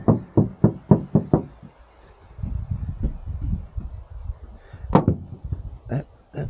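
Knuckles rap on the door panel of a Toyota RAV4, a thin, flexible metal panel: about seven quick, close knocks in a steady series, then a duller stretch of handling noise and a few more sharp taps near the end.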